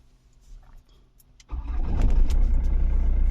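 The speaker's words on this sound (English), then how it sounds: "So let's start the car." A car engine cranks and fires after a quiet stretch, then settles into a steady, loud idle rumble close to the listener, with no talking.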